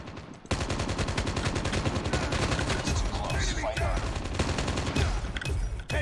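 Dense, continuous rapid gunfire from a mobile shooter game played on an emulator, loud and sustained for several seconds after a brief quiet start, with overlapping bursts and shots.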